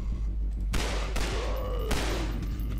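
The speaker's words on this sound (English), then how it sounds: "Let's take these guys out with my pistol here." Pistol shots in the Half-Life 2 mod Nightmare House 2, a few sharp single cracks spaced about a second apart over a steady low game hum.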